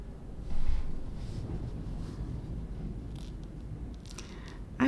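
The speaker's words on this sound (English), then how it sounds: "It's really windy outside." Gusty wind blowing outdoors, a steady low rumble with buffeting bursts against the microphone, continuous and fairly loud with no talk.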